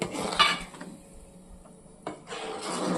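A lid clatters open on a pot of simmering koi fish curry, then a spoon scrapes and stirs through the thick gravy in a few soft, close strokes before a brief second rustle of movement.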